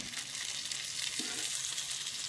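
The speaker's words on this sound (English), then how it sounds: "these bell peppers won't get fried anyway" Bell peppers fry in a pan with a steady bright sizzle and crackle, close and fairly loud, with a brief stir or shift of the food partway through and no talking.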